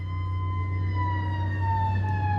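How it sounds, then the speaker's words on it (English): A siren passing outside, a steady wailing tone that slowly drifts in pitch over a constant low engine hum, fairly loud and continuous with no talking. "Siren."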